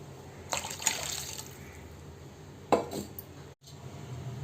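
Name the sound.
pouring rice water into rasam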